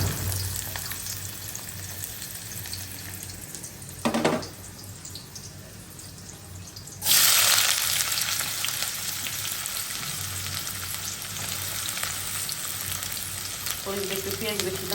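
Chicken liver frying with spices in a wok, a steady sizzle running throughout, with a louder burst of hissing partway through as more goes into the hot pan.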